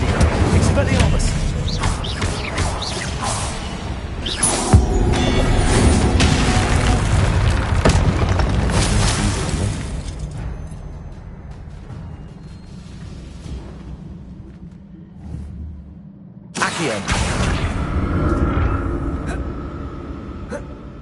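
Fire spells Confringo and Incendio burst in Hogwarts Legacy, a run of loud booming blasts for about ten seconds, a quieter lull, then another heavy eruption of explosions near the end.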